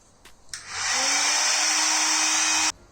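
A heat gun shrinks heat-shrink tubing on Toyota GT86 headlight wires: a click, then a steady, even blowing hiss with a faint whine that runs for about two seconds before cutting off abruptly. No voices.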